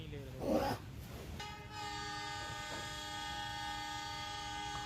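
A train horn sounds a long, steady, multi-tone blast that holds to the end, following a brief louder burst of noise at the start.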